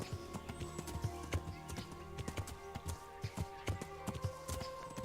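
Horse hooves clop in a steady trotting rhythm in the video game Kingdom Come: Deliverance, clear and close, layered over quiet background music with no talking.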